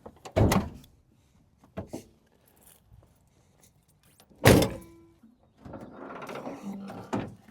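Several heavy mechanical thunks and clunks as an El Camino's hood is popped open, with one loud sharp pop midway, followed by faint rattling and handling noise.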